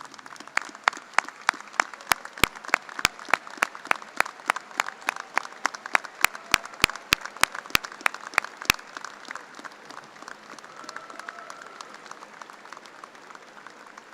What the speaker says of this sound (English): please acknowledge with a round of applause your family and friends